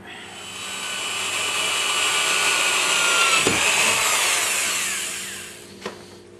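An electric drill grinds steadily through the metal of a viking helm for several seconds, a loud high whine rising and fading, followed by a sharp clank as it stops.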